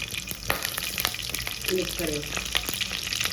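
Mustard seeds and cumin spluttering in hot oil while cooking Bendekayi palya, with crackling pops and a steady sizzle under faint background talk.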